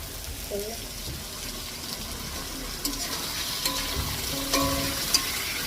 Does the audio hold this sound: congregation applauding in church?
no